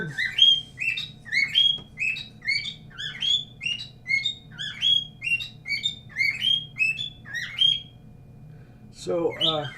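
A pet bird chirps rapidly and repeatedly nearby for most of the stretch, then falls quiet before a voice briefly cuts in at the end.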